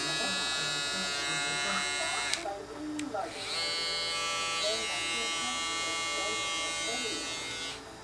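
An Andis Pro Foil or Babyliss FX foil shaver hums with a steady electric buzz, briefly cutting out and restarting partway through, close and continuous with a voice speaking faintly beneath it.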